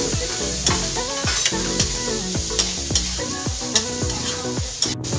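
Vegetables frying in a pan with pulao masala for a veg pulao: a continuous close sizzle with stirring, under a pattern of repeated pitched tones.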